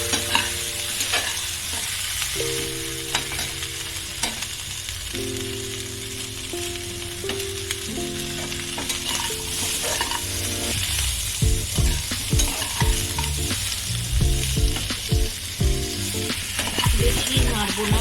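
Carrots, potatoes, papaya and tomatoes fry and get stirred in a pot for a mutton stew, a steady loud sizzle under repeated scraping strokes of the spoon, with no one talking.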